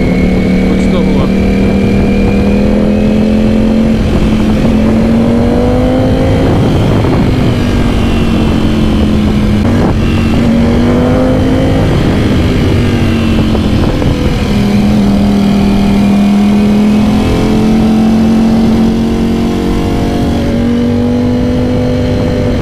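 A Yamaha R1 superbike ridden hard through mountain corners near Jammu, engine note rising and falling in a steady loud drone as it accelerates and eases off, with someone talking over it.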